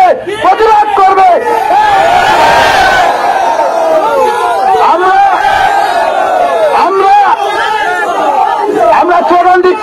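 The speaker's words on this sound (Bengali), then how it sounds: "আমরা স্লোগান দিচ্ছি, একটু বড় স্লোগান দিচ্ছি" A large protest crowd in a street rally against a bill chants slogans together, loud and close, with rhythmic shouted voices and overlapping calls filling the whole stretch.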